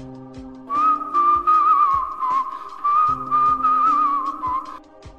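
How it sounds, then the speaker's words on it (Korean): An eerie, wavering melody whistled close by in two long phrases, with soft background tones beneath. "제 귓가에 휘파람 소리가 들려오기 시작했습니다."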